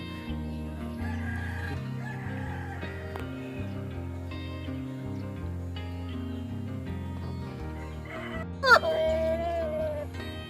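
An Australorp rooster of Australian line crows once near the end, a sharp, loud call that rises above a steady tonal background which runs through the whole stretch.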